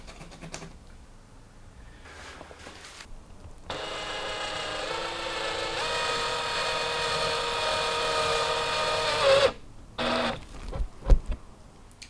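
A power drill bores holes in a wall to hang a heavy mirror, whirring in one sustained, loud burst of about six seconds, with bumps and handling knocks before and after.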